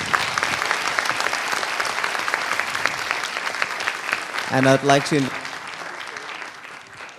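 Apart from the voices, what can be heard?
audience applause for Professor Maskins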